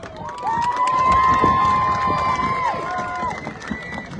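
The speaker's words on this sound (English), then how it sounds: "another big round of applause one time" A crowd cheers and claps steadily at a Toa Samoa rugby league fan day in Sydney, with a bright whistle-like tone rising above the noise for a couple of seconds, then the applause tapers.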